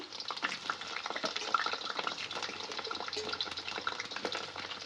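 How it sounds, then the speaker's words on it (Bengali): Potato pieces sizzle in oil for chicken biryani, a near, crackling hiss with frequent spattering pops and occasional stirring clatter, fluctuating in loudness throughout. "বিরিয়ানির জন্য আলু ভাজা করছি"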